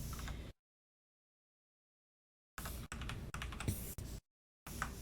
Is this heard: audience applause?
no